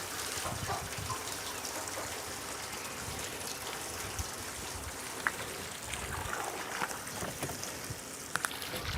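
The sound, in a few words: pouring water on a farm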